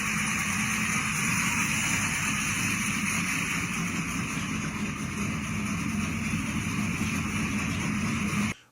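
A 1985 Chevy S10 Pro Street pickup with a 406 engine runs steadily and loud the whole time, a dense continuous rumble with a constant drone that cuts off abruptly at the end.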